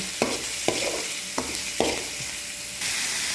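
Garlic and onion sauté in hot oil in a pan with a loud, steady sizzle, while several quick stirring scrapes land about every half second.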